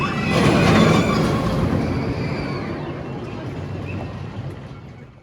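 The Revolution roller coaster train runs along its track at Six Flags Magic Mountain, a loud rumbling pass with squealing wheels that fades as it moves away.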